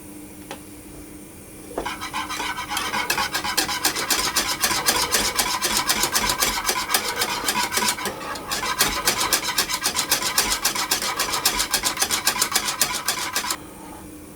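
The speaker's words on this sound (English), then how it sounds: "I'll put the heat on and I'll just keep whisking it" Custard being whisked steadily in a pan over heat for a pasticciotti filling, a quick rhythmic scraping rasp of the whisk against the metal that starts after a quiet moment and runs evenly and close until near the end, with no talking.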